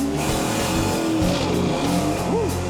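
A drag racing car launches down the strip with tire spin, its engine roaring loud and steady throughout with rising revs, heard up close with no talk over it.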